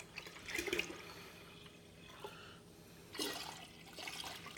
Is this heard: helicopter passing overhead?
no